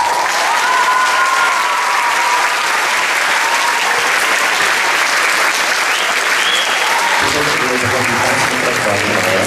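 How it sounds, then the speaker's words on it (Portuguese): A large audience at a dance school's 2017 graduation ceremony bursts into loud, sustained applause that fills the hall, a dense wash of clapping that thins slightly near the end. "Uma salva de palmas."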